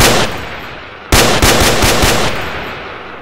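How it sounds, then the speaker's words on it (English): A FAL rifle fires in a GTA video game. A loud opening volley trails off, then after a short pause comes a sharp burst of about five quick, evenly spaced shots with a lingering echo. "This is the FAL. But listen to this."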